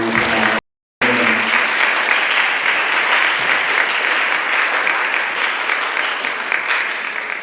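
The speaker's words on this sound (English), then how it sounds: "A round of applause, please." At a global impact forum, an audience gives a full round of applause after a brief dropout, the clapping dense and loud, easing off slightly toward the end.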